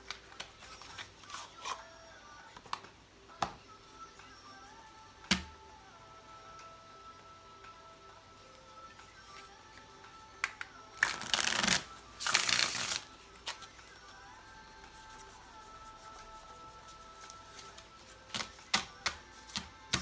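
A deck of tarot cards being shuffled by hand, with scattered crisp riffles and taps across the stretch and a dense, louder burst of shuffling near the middle, close and quiet, without talking.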